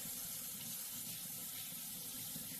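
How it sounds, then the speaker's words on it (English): Water from a tap runs continuously over the press of an Auto10 Plus cleaner during rinsing, a soft, even splashing rush with no talking. "The press, again, give that a nice rinse."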